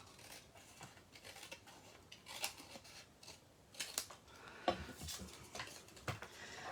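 Scissors snipping through paper while trimming off strips for a quick handmade gift, a few quiet, scattered crisp cuts with soft rustling between them, close and unaccompanied by talk.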